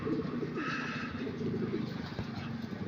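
Racing pigeons coo repeatedly in a loft or yard during a training flight, low soft cooing calls that overlap steadily at moderate distance over a constant background hum.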